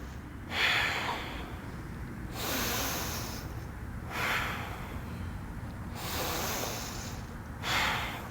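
Slow, audible breaths drawn in and let out while holding a yoga hip-opening pose, a steady in-and-out rhythm of about four long cycles, close and fairly soft, with no talking.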